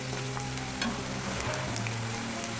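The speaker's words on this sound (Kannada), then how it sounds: "ಈರುಳ್ಳಿ ಸ್ವಲ್ಪ ಚೆನ್ನಾಗಿ ಫ್ರೈ ಆಗಬೇಕು." Onions sizzle in hot oil with curry leaves, a steady, soft frying hiss with faint crackles, close by and without any voices.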